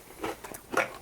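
Two quick bites into a sweet snack, crisp crunching sounds close to the microphone, fairly faint and with no talking.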